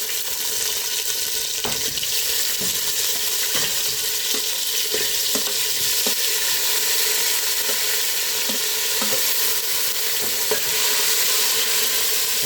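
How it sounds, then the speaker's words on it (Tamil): Tomatoes sautéing in a pan for paruppu rasam, a loud steady sizzle running throughout with occasional faint clicks and scrapes of stirring, close up, no talking. "இப்போ தக்காளி கொஞ்சம் வதங்கட்டும்."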